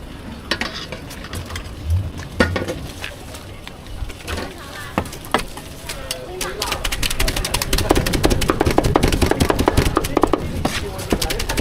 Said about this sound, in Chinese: 就是这个肉一剁，有没有感觉看起来很解压的样子